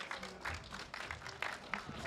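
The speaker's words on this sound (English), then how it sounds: "aggressive round of applause for helping" An audience at a live podcast taping at Animal Con claps in steady applause, a dense wash of hand claps from a crowd heard at moderate distance.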